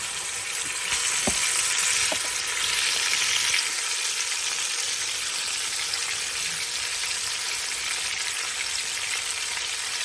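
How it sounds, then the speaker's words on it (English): A beef roast browning in a hot pan, a steady loud sizzle and crackle of frying meat throughout, with a few faint clicks and no voices. "we're just going to start browning this guy up"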